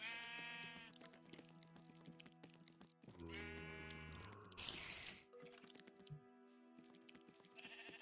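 Sheep in the video game Minecraft bleat loudly several times in quavering calls, with game sounds in between, including a brief burst of noise midway.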